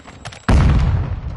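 Semtex sticky grenade detonating in a Call of Duty-style shooter, one loud close blast that hits suddenly after quiet game sounds and rumbles on with a long, heavy low-end decay.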